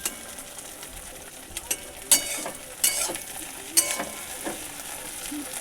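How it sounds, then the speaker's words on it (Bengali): Egg, tomato and onion bhujia frying in a pan over low heat, a steady soft sizzle broken by a few sharp scraping clicks of a spatula stirring and tapping the pan. "আর লাল লাল করে ভেজে নেব"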